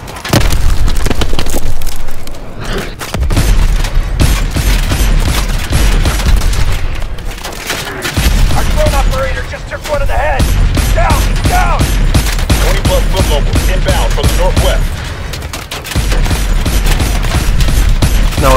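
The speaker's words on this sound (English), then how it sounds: "now we get to go on a turret" Sustained turret gunfire in Call of Duty: Advanced Warfare, loud dense rapid bursts with booming impacts, broken by brief pauses, with faint voices occasionally underneath.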